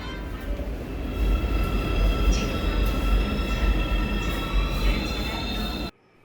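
A subway train runs with a steady, loud rumble of wheels on rails and a faint high whine, then cuts off abruptly near the end.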